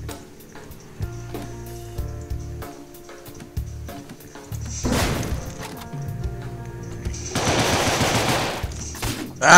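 Weapon fire in the video game Deadbolt, with sharp gunshots and then longer rattling bursts of rapid automatic fire that grow louder and denser toward the end, set against a low, steady game background.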